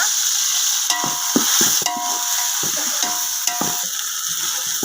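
Ground masala frying for mutton biryani, a loud continuous hiss and sizzle filling the pan, with intermittent scraping and knocking from a spoon stirring it close by.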